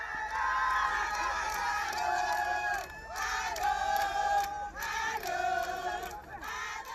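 A crowd of Ivorians at the consulate general in Jeddah cheers and shouts in festive bursts, loud, high-pitched massed voices rising and falling with brief pauses between waves.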